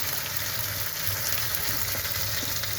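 Tomatoes and beans fry in a hot pan with a steady, close sizzle that runs unbroken throughout, with a faint low rumble underneath and no voices.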